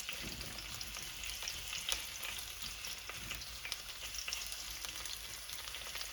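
Two chicken breasts fry in a pot for a one-pot chicken dopiaza, giving a steady close sizzle with scattered crackles and small bursts, with no talking.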